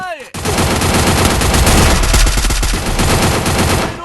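Gunfire in the video game Free Fire bursts in abruptly and continues as loud, rapid automatic shots that blur into a sustained roar for several seconds.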